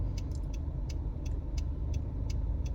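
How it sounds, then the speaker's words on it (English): Busy street traffic rolls past as a continuous low rumble of car engines, with repeated short clicking ticks on top, close and steady throughout. "It's a lot of traffic."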